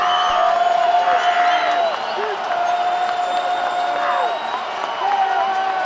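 Roaring football stadium crowd at a 2012 college game, Utah State at UTSA, cheering and whooping on third down, a dense sustained din with whistles and shouts throughout, a play-by-play voice talking over it.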